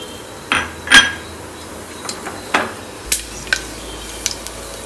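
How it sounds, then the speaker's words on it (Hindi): Whole spices such as bay leaf, star anise, cloves and cinnamon in hot oil, heard as scattered sharp crackles and a few utensil knocks against the pan over a faint sizzle, with no talking. "सारे अच्छी तरह से फ्राई होने देते हैं हल्का सी क्रैकल साउंड आने लगा है"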